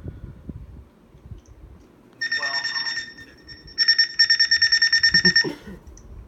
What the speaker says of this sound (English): so that's what the 259's alarm sounds like